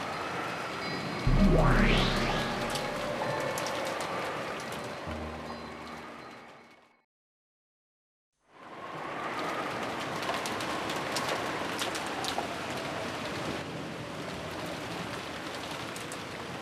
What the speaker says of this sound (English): it was very quiet, filled only with the sound of rain.